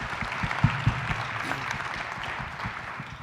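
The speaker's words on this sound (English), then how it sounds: "So give us a round of applause for these gentlemen." A healthcare launch audience claps in a short burst, with a few sharp hand claps standing out near the start before the applause settles into a softer patter, fairly close and moderately loud.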